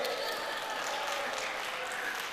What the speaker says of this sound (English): Everyone, you can cheer